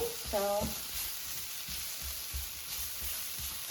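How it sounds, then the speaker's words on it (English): Seasoning for ground turkey fajitas sizzles steadily in a hot pan, a soft continuous hiss with a brief tonal squeak near the start and faint low scraping bumps throughout. "So just cook for a few more seconds so the seasoning is heated up."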